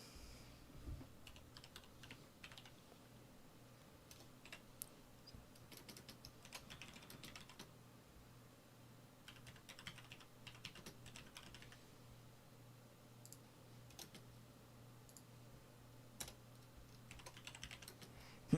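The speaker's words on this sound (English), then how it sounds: "me typing more notes and then posting them in the chats" Someone types notes on a computer keyboard in quiet, irregular bursts of soft clicking keystrokes, close and faint, with no talking.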